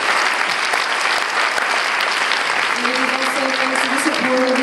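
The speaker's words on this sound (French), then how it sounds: "Laurie Anderson, qui est aussi avec nous ce soir, que je vous invite à applaudir aussi." Audience applause for Laurie Anderson at the opening ceremony of the 2019 Quinzaine, a dense, steady wash of clapping throughout, with a voice speaking faintly beneath it toward the end.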